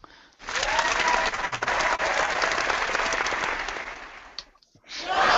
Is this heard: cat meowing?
no